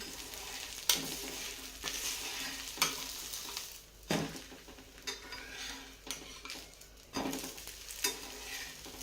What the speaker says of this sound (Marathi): आणि गॅसची फ्लेम फुल करून आपल्याला डोसा भाजून घ्यायचा आहे.